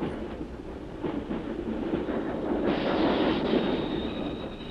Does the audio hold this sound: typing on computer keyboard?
no